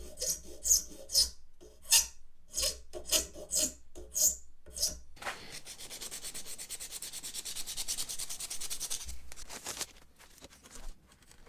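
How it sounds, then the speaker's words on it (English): Wood edges of a Stratocaster guitar body being filed by hand: about ten distinct rasping strokes in a steady rhythm, then a longer, continuous scraping passage, close and fairly loud, with no talking. "smooth all these kind of square edges over. Firstly with a file"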